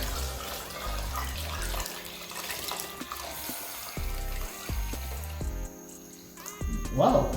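Water runs from a tap into a cooking pot for Jamaican sorrel drink, a steady splashing pour with trickles and drips, fairly close and over faint background sounds.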